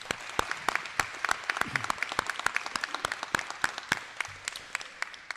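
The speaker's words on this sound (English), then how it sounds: "I want a small round of applause just for choosing to take the hard road rather than the easy road" A small round of applause at a senior signing ceremony, steady scattered clapping from a modest group with distinct individual claps running through the whole stretch.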